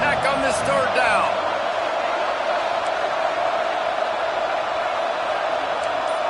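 A college football stadium crowd roars loudly and steadily on a third down, a broad wall of cheering with a few sharp whoops early on.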